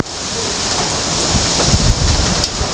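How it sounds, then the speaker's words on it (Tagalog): Heavy typhoon rain pours in a dense, continuous hiss, with gusts of wind adding loud rushing swells. "Grabe, malakas yung ulan at hangin."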